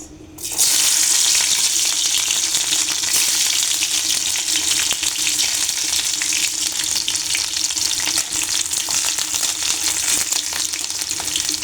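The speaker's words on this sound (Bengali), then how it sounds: "তেল গরম আছে রসুন ভাজা বেশি সময় লাগবে না" Garlic fries in hot oil, giving a loud, steady sizzle that starts abruptly and crackles on without pause, close to the microphone with occasional stirring and no talk.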